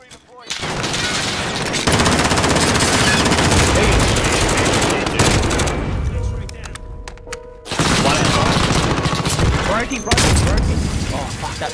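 Sustained automatic gunfire in Call of Duty: Warzone, loud bursts filling most of the stretch with a short lull in the middle, while players talk over it.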